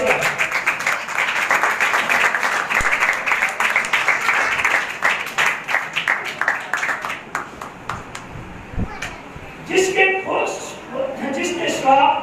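Congregation applauding at a Sukkot, Feast of Tabernacles worship service, a dense burst of clapping that thins into scattered claps, with a voice speaking over the later part.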